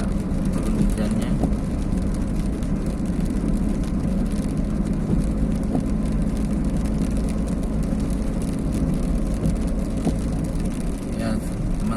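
Light drizzle patters on a car moving at about 50 km/h along a toll road toward Sultan Hasanuddin Airport in Makassar, a steady broadband hiss of rain and road noise with engine rumble underneath, continuous and even throughout.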